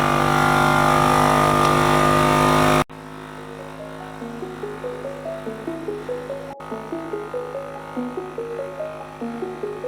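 A cheap heavy-duty tire compressor plugged into a car battery starts with a brief loud burst, then settles into a steady mechanical hum with rapid rhythmic pulsing pumps, close and continuous.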